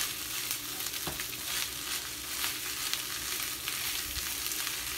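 Egg stir fry sizzling steadily in a pan, a close, even frying hiss with occasional light clicks of stirring, continuous and without voices.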